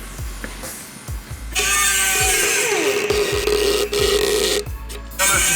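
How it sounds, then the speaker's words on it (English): A power tool whines and cuts as it trims small pieces of metal near a Ram 1500 Rebel's tire, a loud high whir starting after a short lead-in and holding with brief breaks, with rhythmic knocks underneath. "just cutting off these little pieces of metal"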